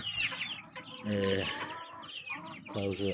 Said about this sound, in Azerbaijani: burada cücələrimi görürsünüz